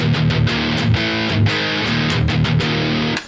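Distorted electric guitar chords through a JHS Angry Charlie overdrive pedal, played in a driving rhythm, thick and gritty with crunchy overdrive, continuous and fairly loud with no talking.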